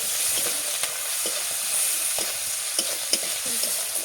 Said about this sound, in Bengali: আর দিয়ে দেবো আমি এই যে পেঁয়াজ কুচি, যেটা আমি ভালোভাবে ভেজে নেব পেঁয়াজটা